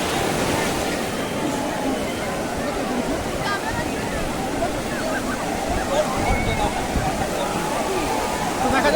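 Sea waves wash steadily onto the beach at Digha, a loud continuous rushing surf that fills the scene while someone talks over it.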